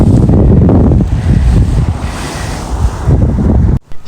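Water waves washing along a rocky shore on a windy spring outing, a loud roaring surge with heavy wind buffeting the microphone, then a sudden cut near the end.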